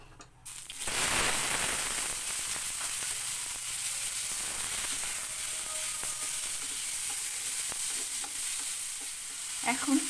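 Orange pieces frying and being stirred in a pan with dried chillies and panch phoron, a steady loud sizzle with scraping stir sounds running throughout, no talk.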